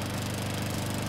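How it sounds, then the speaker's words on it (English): A lawnmower engine running in the video game Dead Rising, a steady, continuous mechanical drone with a low rumbling idle throughout, loud and close with no talking over it. "I'm going for the lawnmower."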